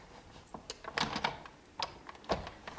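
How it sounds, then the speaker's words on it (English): A second cutting pad slides into a Sizzix embossing machine with a folder already loaded, making a run of sharp plastic clicks and knocks, close and fairly quiet, with no talking. "I'm going to add that second cutting pad into the machine."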